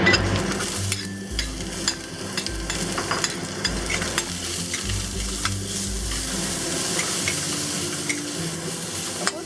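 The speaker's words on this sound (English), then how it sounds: "we'll saute the onions, garlic, and ginger" Onions, garlic and ginger sauté in oil in a pan over medium-high heat, giving a steady close sizzle broken by rhythmic scraping stir strokes, with no talking.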